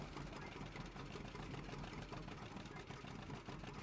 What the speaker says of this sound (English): listen to the stereo two-cylinder sound music